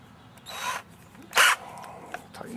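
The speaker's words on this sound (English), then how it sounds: "just basically running the chuck out" Two short bursts of a cordless drill's chuck spinning, whirring briefly close by, separated by a pause, with faint clicks afterward.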